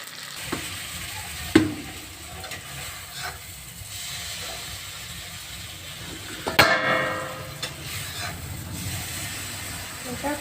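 Rice frying in a pan until reddened for chicken biryani: a steady background sizzle with occasional scraping stir strokes and a couple of sharp clanks from a utensil against the pan.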